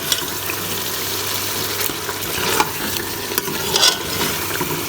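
Mutton frying in oil for tinda gosht, a loud continuous sizzle with stirring scrapes of a spoon against the pot, close and steady, with no voices.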